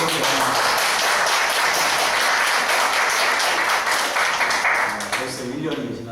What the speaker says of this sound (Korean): 박수 좀 쳐주세요.